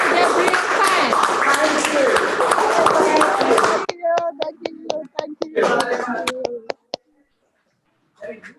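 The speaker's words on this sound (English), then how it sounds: "please give virtual applause to our second speakers" Applause from a webinar audience thanking a second speaker, dense clapping and hand sounds for about four seconds, then scattered individual claps and taps thinning out to near silence, with brief talk returning at the end.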